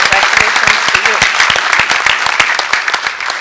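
A crowd claps steadily in dense, loud applause at the St. George's University commencement in Grenada, with the sound sustained across the whole moment and easing slightly toward the end.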